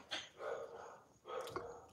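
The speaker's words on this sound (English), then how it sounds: "My dogs are going crazy." Dogs barking at home in a few sharp bursts, with a pause between two clusters of barks, fairly close and moderately loud, no talk over them.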